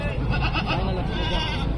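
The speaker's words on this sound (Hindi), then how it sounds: "ये बकरे जो ना माशाल्लाह से नयाब क्वालिटी के हैं" Goats bleat at a livestock market in Dera Ghazi Khan, close and busy, a steady blur of animal calls mixed with crowd noise and talking voices.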